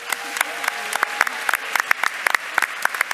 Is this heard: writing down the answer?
no